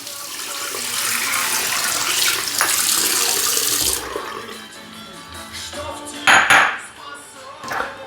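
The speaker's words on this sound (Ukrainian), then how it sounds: "І водичку в тарі поміняємо теж." Water poured and splashing in a container while changing the rinse water during a professional shave, a steady running-tap wash for about four seconds, then quieter handling with a sharp clatter or splash near the sixth second.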